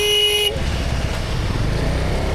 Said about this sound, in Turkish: kornaya bas